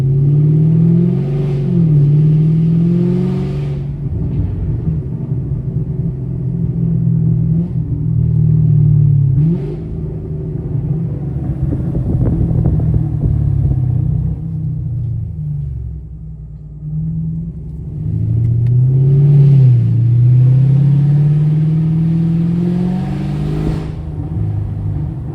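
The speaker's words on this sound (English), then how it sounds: "But the 16 does have burbles. Like, I'm gonna try to make it burble for y'all." A catless Chevrolet Camaro 2SS with a 6.2L V8 rumbles loudly with deep exhaust burbles and rising revs, heard from inside the car with no talking.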